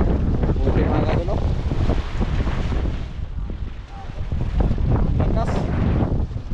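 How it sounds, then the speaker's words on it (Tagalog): Strong wind buffets the microphone on a fishing boat at sea, with waves surging around the hull in a steady, loud roar that swells and dips throughout, as people talk over it. "Lakas ng hangin. Lakas ng alon."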